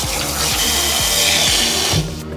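Water gushes steadily into a cooking pot for shiitake mushroom ramen broth, a loud continuous rush that cuts off abruptly near the end.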